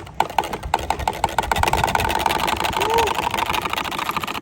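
A bicycle fitted with an empty-bottle exhaust hack gives a rapid, rattling putter like a small motorbike engine. The rattle quickens into a continuous buzz as people talk and cheer over it.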